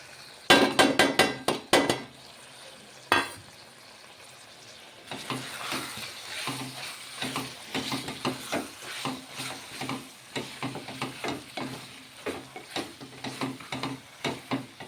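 Chicken pieces fry in oil with turmeric, chili, salt, coriander powder, cumin and garam masala for a masala curry, with sharp utensil clatters against the pan at first, then steady sizzling and repeated stirring scrapes close by, no talk.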